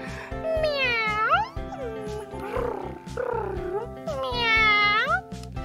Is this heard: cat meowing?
yes